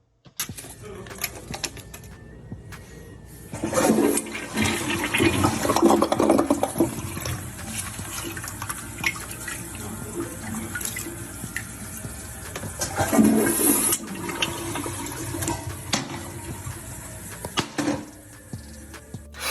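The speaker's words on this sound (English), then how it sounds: "Well, Kodak, I hope you're happy you clogged it, okay? And I don't see a plunger anywhere in sight" A toilet flushes loudly and close, with rushing, gurgling water that swells twice and lingers as the bowl struggles to drain, suggesting a clog; no speech over it.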